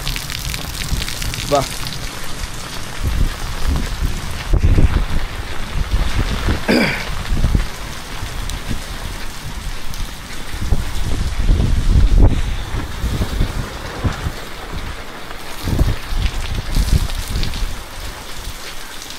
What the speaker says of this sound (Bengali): এই দেখেন বৃষ্টির পানি পড়তেছে।